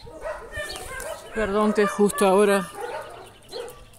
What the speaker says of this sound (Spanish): justo ahora los perros se pusieron, no sé qué les pasó